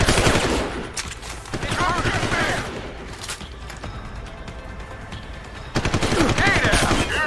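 Gunfire from the shooter game Deus Ex: Human Revolution in a Hengsha firefight, with dense automatic bursts at the start and again at the end, lighter scattered shots between, and faint voices underneath.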